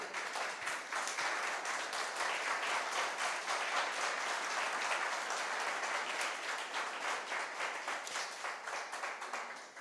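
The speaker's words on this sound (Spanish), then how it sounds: "Dale ese aplauso al Rey." A church congregation applauds the King at a service, a sustained wash of many hands clapping steadily for about ten seconds, slowly thinning toward the end.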